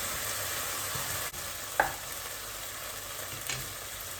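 Ginger and garlic sautéing in a pan for plain pulao, a steady soft sizzle with a couple of brief scrape or stir clicks; no talking.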